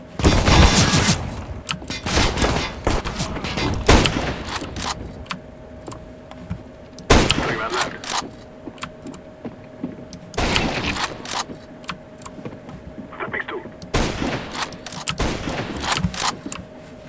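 Sniper rifle shots in the game CS:GO: a handful of loud, sharp blasts spaced several seconds apart, each with a short ringing tail, over a steady low background hum.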